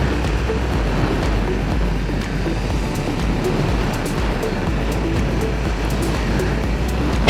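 A 2021 Ducati Panigale V2 motorcycle cruising in sixth gear at around 100 km/h, a steady low engine drone blended with heavy wind rush, loud and continuous from start to finish.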